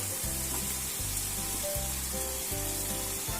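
Idli pieces fry in hot oil, a steady hiss running throughout over a rhythmic low thumping pulse that repeats about once a second, with no voices.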